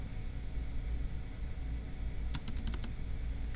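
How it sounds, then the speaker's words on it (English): Quick typing on a computer keyboard, a short burst of about half a dozen crisp, close keystrokes near the end, after a stretch of quiet room hiss. "So let's go ahead and type that up in C."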